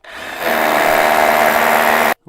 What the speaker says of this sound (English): So what we're going to do now is just drill that hole a bit further.